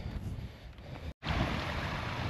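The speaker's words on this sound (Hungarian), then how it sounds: "Úgy itt a szélárnyékban egy kicsit ilyen sarki hideg szél fúj." Cold polar wind blowing across a high mountain hiking trail in the Queyras Alps, a steady loud rush of wind noise buffeting the microphone, broken by one brief dropout near the middle.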